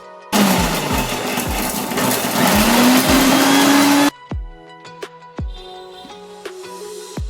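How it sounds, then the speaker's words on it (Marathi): A kitchen mixer grinder roars loudly as it grinds chillies and garlic, a steady high whine for about four seconds, then stops abruptly, leaving a few clicks and knocks of the jar. "आता मी हे मिक्सरला वाटून घेते"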